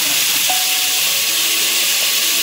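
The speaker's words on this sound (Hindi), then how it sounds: "इसी में मैंने अभी टोमेटोज डाल दिए हैं।" Tomatoes sizzle in a hot pan for a noodle dish, a steady close hiss of frying with no talk over it.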